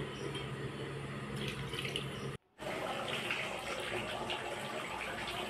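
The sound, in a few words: water being poured into a pot while cooking biryani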